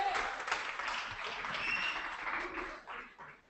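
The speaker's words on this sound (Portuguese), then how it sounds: "E muitas palmas" Audience applause for a certificate recipient at a photojournalism workshop, a steady wash of many hands clapping at moderate distance, tapering near the end, with faint voices mixed in.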